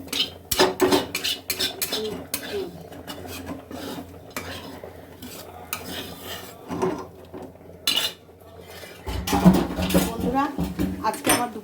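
Cutlery and dishes clinking while rice is served for a home lunch: sharp scattered clinks and scrapes of metal on plates and pots, some in quick clusters, separated by quiet gaps.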